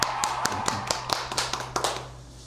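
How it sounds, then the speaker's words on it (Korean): A few people give a sparse round of claps in a small room during a student interview, with irregular taps fading out after about two seconds. "자, 박수."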